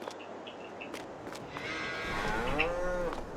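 A cow moos in the Farming Simulator 22 video game, one long, drawn-out low call rising and falling over about two seconds, heard fairly near after quieter farmyard ambience with a few soft knocks.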